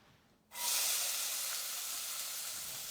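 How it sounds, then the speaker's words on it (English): Chopped onions hit a hot cooking pot for taco soup and burst into a loud, bright sizzle after half a second of quiet, the hiss holding steady and close to the end. "Can you guys hear the sizzle?"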